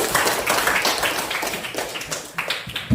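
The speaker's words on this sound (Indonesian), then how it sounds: "Tepuk tangan buat Nabil." Classroom applause for a student, a dense patter of many hands clapping close by for the full stretch, uneven and lively, with no talk over it.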